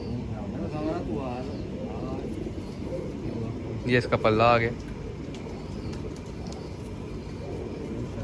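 Pigeons of old Indian breeds coo in a large loft, soft rolling calls near and far with a louder burst of cooing partway through, while someone talks over them.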